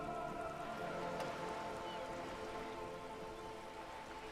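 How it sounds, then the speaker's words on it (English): Soft, steady rain patters onto wooden boards and the surrounding water in the Disco Elysium video game, a quiet, even hiss with scattered drops. "All around you, rain keeps falling down. On the wooden boards she's standing on, and on the water around you."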